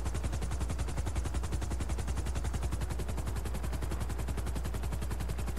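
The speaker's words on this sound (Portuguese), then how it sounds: "Dá uma voadazinha baixa aí que eu metralho todo mundo lá embaixo." Rapid sustained machine gun fire in GTA V Online, a steady fast stream of evenly spaced shots running unbroken for several seconds with no talk over it.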